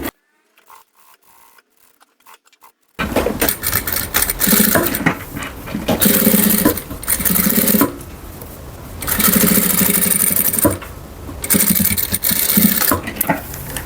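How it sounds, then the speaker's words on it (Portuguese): Sewing machine stitching fabric for a decorative hem, a fast mechanical whirring and clatter in several bursts separated by short pauses, close and loud after a quiet start with faint handling clicks. "Eu acho que eu vou passar uma costura aqui e vou prender essas duas partes também."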